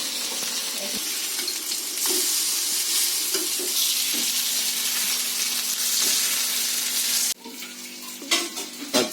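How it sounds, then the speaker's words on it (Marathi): Alu vadi, colocasia leaf rolls, frying in hot oil: a loud, steady, close sizzle that drops sharply near the end, with light clinks and stirring, no talk. "ती वडी इथे तळायला दिली आहे"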